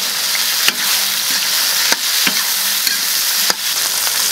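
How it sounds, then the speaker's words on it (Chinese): Seasonings including chili bean paste and ginger stir-fried in plenty of oil in a wok, a close, loud sizzle with sharp scrapes of the spatula at a slow, irregular rhythm and no talking. "你看这料全部下进去，给它炒"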